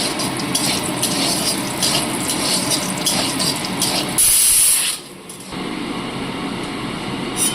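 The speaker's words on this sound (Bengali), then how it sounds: "এটা আমি একটু লাল লাল করে ভেজে নেব।" Lentil dumplings (bori) frying in mustard oil in a wok for Bengali sukto, a loud steady sizzle and hiss close up, swelling briefly before dropping quieter as the frying settles.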